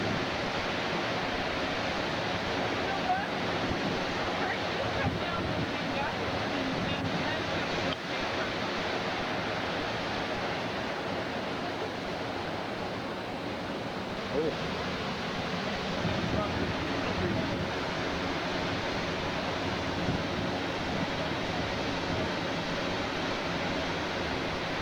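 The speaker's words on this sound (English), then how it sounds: "Here cometh the water." Continuous broadband rush of water surging over rocks on a coast in Iceland, steady and fairly loud, with faint wind and distant voices underneath.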